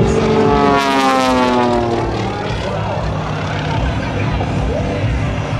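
A stunt plane's propeller engine roars loud and close during an outside snap roll at an airshow, with the pitch sliding and wavering as it maneuvers and a commentator talking over it.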